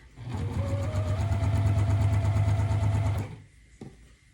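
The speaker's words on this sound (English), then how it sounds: "And I'm really taking my time and sewing this." A sewing machine stitches a Strawberry Garden quilt block, its motor running in one steady, loud whirring burst for about three seconds before stopping, followed by a faint handling knock.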